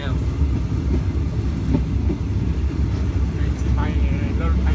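Steady low rumble of a moving Thai train with faint rhythmic clatter, heard from inside, with people talking quietly underneath.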